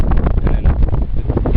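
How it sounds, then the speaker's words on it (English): Strong wind buffets the microphone outdoors above rocks and water, a loud continuous rumbling roar with gusty swells and no voices. "It's very windy, Bev."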